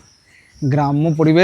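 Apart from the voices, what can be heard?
crickets chirping in quiet Sundarban village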